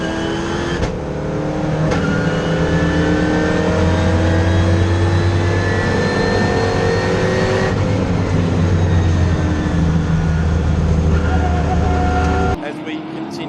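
Race cars accelerate away from a rolling start in the AMS Autosport S15 Island Magic 2025 race, including a Fiat and a Perkins Engineering supercar, engines roaring loud and steady with rising revs under continuous commentary.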